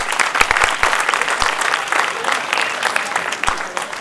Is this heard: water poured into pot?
no